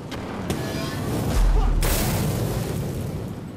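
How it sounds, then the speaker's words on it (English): The Burning Touch fire spell in the video game Divinity: Original Sin, heard as a sharp burst followed by a heavy, deep boom that swells and then fades into a crackling tail. "Burning touch."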